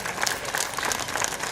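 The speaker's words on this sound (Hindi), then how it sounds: "एक बार जोरदार तालियां बजा के पूरे सदन हमारी माता बहनों से बात करें" An audience claps loudly at an evening Ambedkar Jayanti celebration at Ambedkar Park in Budaun, a dense, steady wave of applause sustained throughout with no voices over it.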